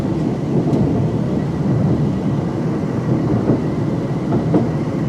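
A train rolls slowly on the approach into Crewe station, a loud steady rumble from onboard with faint wheel clicks and creaks, continuous throughout with no talking.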